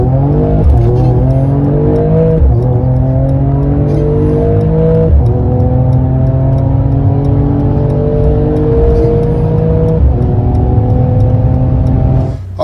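A Mercedes-AMG accelerates hard in a drag run on a track, its engine note loud and close, climbing steadily in pitch through several upshifts with brief dips between gears.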